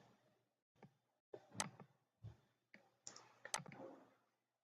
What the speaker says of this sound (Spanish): Damos clic.